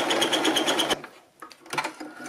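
Sewing machine stitching fabric for a scrunchie, a fast steady mechanical whir and needle patter up close that stops abruptly, followed by a few faint handling clicks and a short burst of movement.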